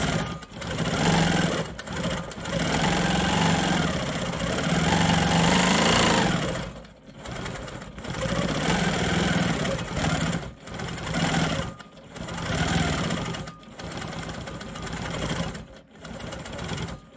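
A sewing machine quilts small swirls on a maple leaf quilt block, its needle running in a fast mechanical whir for several seconds at a time, broken by short pauses and restarts, close and loud throughout with no talking.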